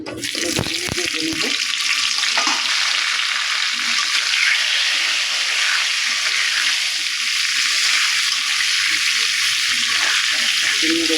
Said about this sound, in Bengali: এবার এই তেলে অল্প একটু লবণ আর হলুদ গুঁড়া অল্প দিয়ে দেবো পেঁপেগুলো